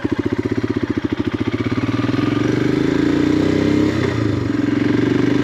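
A Royal Enfield Himalayan motorcycle is ridden off-road. Its single-cylinder engine starts with a distinct pulsing thump, then builds into a steady, loud, close drone as it pulls along.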